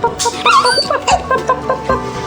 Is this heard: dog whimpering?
yes